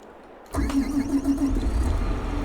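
A brand-new tractor's engine cranks and catches about halfway in, then settles into a close, steady, mid-pitched idle with a low rumble underneath.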